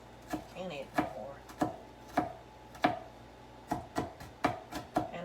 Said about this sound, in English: I chop it up real fine